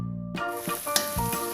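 Spice paste for a catfish pecak dish frying in a pan until dry and fragrant, a loud close sizzle that surges as the paste is stirred, with no voices.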